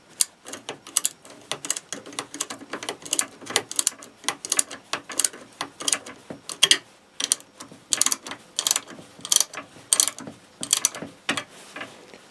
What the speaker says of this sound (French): j'utilise des clés plates à cliquer pour serrer